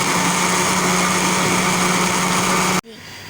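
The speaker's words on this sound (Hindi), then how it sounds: "अब हम एक दफ़ा और इसको ग्राइंड करेंगे।" A kitchen grinder runs hard, blending bananas with milk, a loud, steady high-pitched motor whine that stops abruptly near the end, leaving brief quiet.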